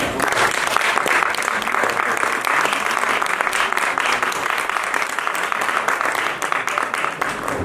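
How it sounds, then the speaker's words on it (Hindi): A theatre audience applauds the cast of the play Manglu at the close of a stage performance, with steady, dense clapping from a large crowd that stays loud and even for the whole stretch without letting up. "जोरदार तालियां उनके स्वागत के लिए"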